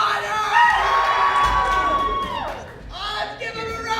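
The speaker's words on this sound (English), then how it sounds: "Let's give him a round of applause!" A prom crowd cheers and whoops after the prom king is announced, a loud sustained wave of shouting and screams from many young people, dipping briefly before rising again.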